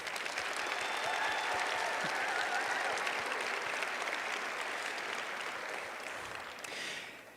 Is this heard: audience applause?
yes